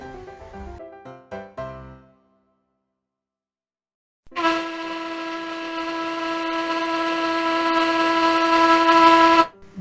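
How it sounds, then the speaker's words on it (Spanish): A ship's horn blasts in one long, loud, sustained tone for about five seconds after a short musical phrase and a brief silence. "barco,"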